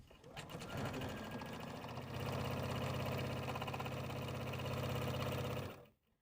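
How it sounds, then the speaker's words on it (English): A sewing machine stitching the top edge of a fabric tote bag with a quarter-inch seam, a close, steady mechanical whir that runs several seconds then stops. "it's time to step to your machine and sew the top edge"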